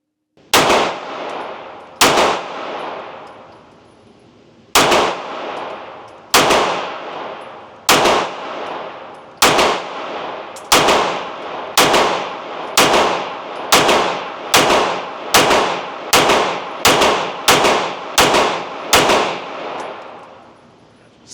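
Loud, close gunshots aimed at a target, about twenty sharp cracks that each ring out with a metallic clang, spaced apart at first and then coming faster and evenly toward the end.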